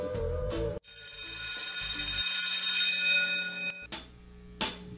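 A bell rings once, signalling the end of a class: a sustained, bright metallic ring that holds steady for about three seconds, then cuts off, with short unrelated knocks before and after it.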